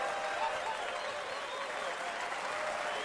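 An audience applauds a guest named Lance on a late-night livestream show, a steady wash of clapping lasting throughout, moderately quiet and even without a clear break.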